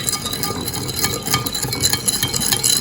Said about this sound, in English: Just mix all the sugar.